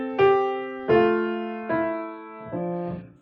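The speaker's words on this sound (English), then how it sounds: "Those are good strong beat parallel sixths." A counterpoint example in second species built on parallel sixths on strong beats, four sustained tones sounding one after another, clear and even, with no talking.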